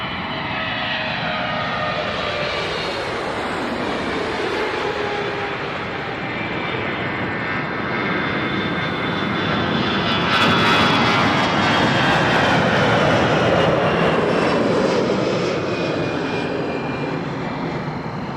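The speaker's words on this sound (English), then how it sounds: "Here is the Azores flight 322 to Ponta Delgada, 321 Neo" An Airbus A321neo airliner, Azores flight 322 to Ponta Delgada, rumbles steadily through a long, loud engine roar at Toronto Pearson Airport, swelling slightly louder toward the end.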